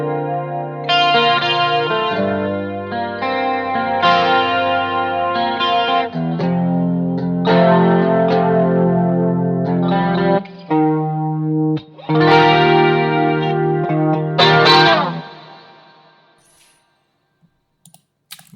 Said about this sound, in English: Add in a little bit of the chorus.